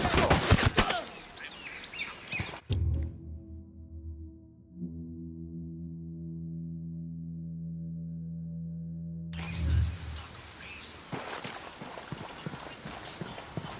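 Gunfire bursts in the Ghost Recon Wildlands video game, sharp rapid shots near the start and again toward the end, separated by a long stretch of steady low tonal hum.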